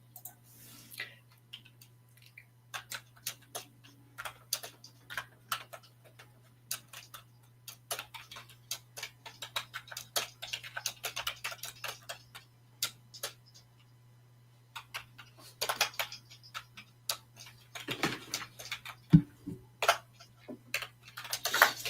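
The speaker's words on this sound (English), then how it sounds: "Can you all hear me typing?" Keys clatter in quick irregular bursts, close and crisp, with short pauses between runs of typing over a faint steady hum.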